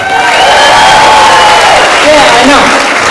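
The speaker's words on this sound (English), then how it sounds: "if I could also get another round of applause just for all the comics that are going to be here today" Comedy club audience at Improv Atlanta erupts in loud applause and cheering, a dense crowd roar with whoops rising and falling, very close and overwhelming throughout.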